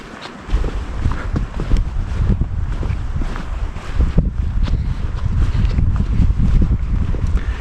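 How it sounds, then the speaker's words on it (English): Steady broadband wind gusting across a mountain trail on the Wonderland Trail near Longmire, Washington, rumbling with microphone buffeting throughout, loud and continuous with swelling gusts, no voices. "Wind kicked up."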